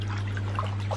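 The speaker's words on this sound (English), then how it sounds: "The bubbles are going really high right now, aren't they?" Water in a hot tub bubbles and gurgles steadily over a constant low pump hum, close and moderately loud, with no voices.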